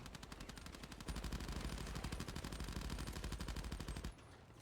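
Rapid automatic gunfire in a video game blasts steadily for about four seconds, loud and continuous, with a brief quieter tail at the end.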